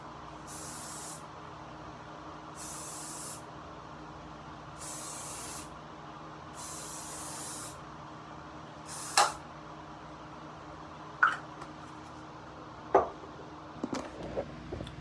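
Four even bursts of hairspray hissing from an aerosol can sprayed onto a face, each about a second long, followed by a few sharp clicks and taps.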